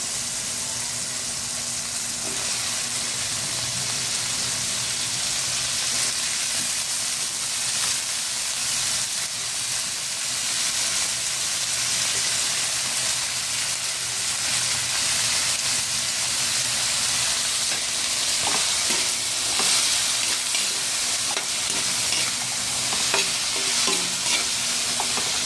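String beans sautéed with small shrimp in a pan, giving a loud, continuous frying hiss with steady stirring and scraping throughout, close and without speech.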